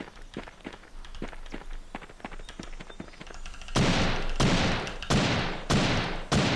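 A PUBG-style Minecraft game: quick running footsteps patter for a few seconds, then loud bursts of gunfire crack out in several separate volleys.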